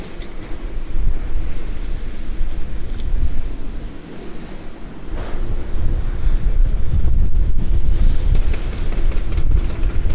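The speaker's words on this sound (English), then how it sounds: "even they can still pick up the wind if it's strong enough, and it is." Strong wind buffets a microphone fitted with a wind guard, a continuous loud roar with gusting swells that briefly dips midway, recorded outdoors at a hospital demolition site in Liverpool.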